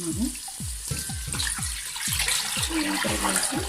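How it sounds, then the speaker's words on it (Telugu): Water pours into a mutton dum biryani pot as a continuous splashing gush with repeated gurgling glugs, close and fairly loud. "వాటర్ పోసుకుంటున్నాను"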